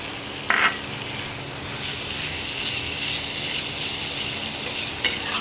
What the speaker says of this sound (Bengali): এবারে মাংসটাকে দিয়ে দিলাম।